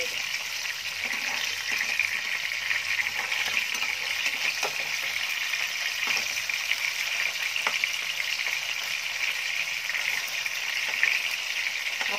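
Fish sizzles in hot oil in a pan with a loud, steady hiss and crackle, heard close and unbroken, with a few faint spatula taps and no voices.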